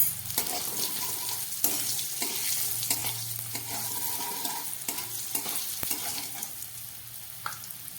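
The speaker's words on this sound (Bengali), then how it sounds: "এই গরম তেলের মধ্যে আমি একটা তেজপাতাও দিয়ে দিলাম।" A single bay leaf sizzling in hot oil in a pan for a vegetarian dhoka curry, a steady moderate crackle with brief stirring scrapes and small pops, no voices.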